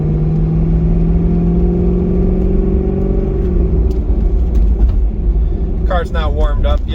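A Chevrolet Corvette C6 Z06 with stiff race suspension, engine not yet warmed up, drones and revs loudly from inside the car, its pitch climbing then falling away, with someone talking briefly near the end.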